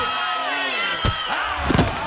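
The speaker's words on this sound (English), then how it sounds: "But no music, just sound effects and crowd noise" Crowd noise behind a gritty fight in the 1993 film Firepower, a continuous roar of onlookers with sharp slam-like impacts near the middle and end.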